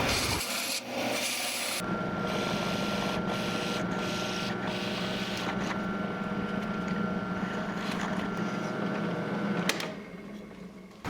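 A groove being cut into a wooden board for lathe chuck and wrench storage, heard as a steady, close, abrasive rasping and rubbing that carries on for most of the stretch with no talk.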